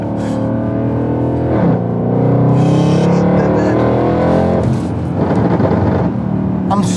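Inside a supercharged 750bhp Mercedes C63 on the move, the engine sends out a deep rumbling drone that swells and falls as the car accelerates, with someone talking over it at times.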